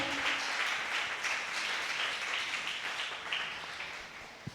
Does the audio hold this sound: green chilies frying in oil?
no